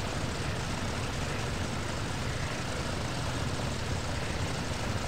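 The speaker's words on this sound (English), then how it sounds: "The next engine we'll start is engine number 4." Steady, dense propeller-engine roar from a Douglas DC-6 as engine number 4 runs up in the X-Plane 11 simulator, loud and continuous with no talk over it.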